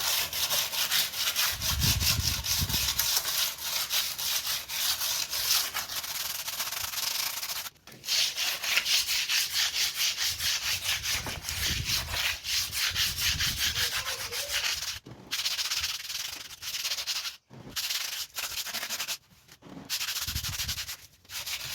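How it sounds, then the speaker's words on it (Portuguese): Sandpaper rubs in steady back-and-forth strokes across a large homemade clay and cement vase, a close, continuous scratchy rasp broken by a few brief pauses. "E aí agora, olha, vou passar uma lixazinha"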